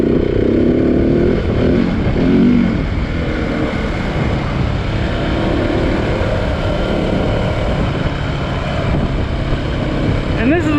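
A Husqvarna 701 dual-sport dirt bike is ridden on a trail, giving a steady, loud engine drone with wind roar and no clear gear changes throughout.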